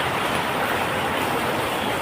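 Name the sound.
heavy rain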